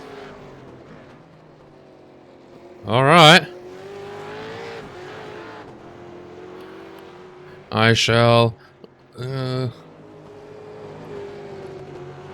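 Race cars roaring past in the iRacing video game during a V8 series race at Oran Park, three quick loud engine passes with rising-falling whine over a low background drone, while a person talks.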